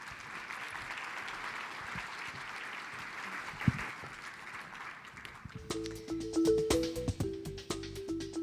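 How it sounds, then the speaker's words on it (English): Audience applause welcoming panelists to the stage at a child-protection forum, moderate clapping in the first half that gives way to a tonal musical stinger with sharp hits and no speech. "Let's give them a round of applause."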